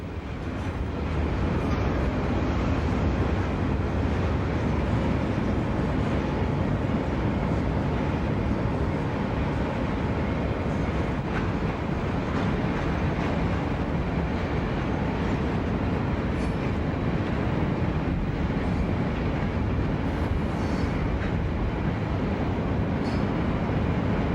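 Freight train K587, a local peddler, rounding a distant curve into Queensgate Yard in Cincinnati, a continuous broad rumble and rolling roar that holds steady and fairly loud for the whole stretch, with no talk.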